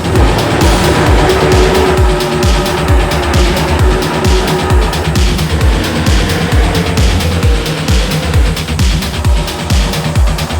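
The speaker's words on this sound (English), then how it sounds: "Green flag is in the air. We're racing at Talladega." NASCAR race cars at Talladega roar continuously at full throttle, a dense, loud pack of engines with layered droning tones and occasional tire noise, no talk over it.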